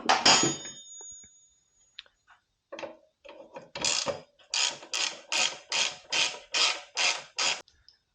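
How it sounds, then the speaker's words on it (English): A ratcheting wrench loosening a bolt on the rear fender strut of a 1975 Harley-Davidson Shovelhead, a clank and scattered clicks, then a run of about ten loud, evenly spaced ratchet strokes close up. "We'll see if we can get this one to loosen without spinning the wrench here."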